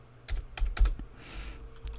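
A computer keyboard is being typed on while automotive scope software is set up. Several irregular, crisp keystroke clicks sound close and fairly loud, with short pauses between them and no voices.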